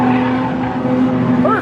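Car drifting through a transition, engine roaring steadily throughout with a rising tire squeal near the end, close and loud, with faint voices in the background.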